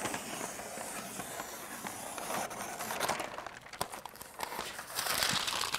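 A paper pattern template for sheet metal fabrication crinkles and rustles as it is cut and trimmed shorter, with irregular close crackles that grow busier toward the end.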